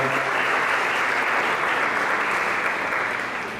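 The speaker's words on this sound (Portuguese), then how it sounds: "podia saudá-los com uma salva de palmas" A church congregation gives a round of applause to greet a couple, a loud, thick, continuous wash of clapping that holds steady and fades slightly at the close.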